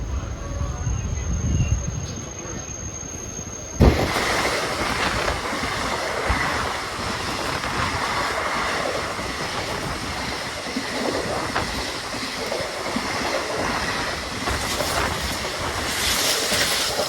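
The Tambaram–Trichy Jan Shatabdi Express rumbles past close by, a loud continuous roar of wheels and carriages with rattling and occasional squeals lasting throughout.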